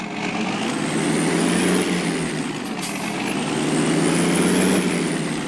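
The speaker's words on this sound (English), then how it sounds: "I just love the sound of that. That is an absolutely gorgeous tractor." A modded tractor engine in Farming Simulator 19 accelerating, a steady loud droning rumble with a slight rise and fall in pitch, continuous and close with no talk over it.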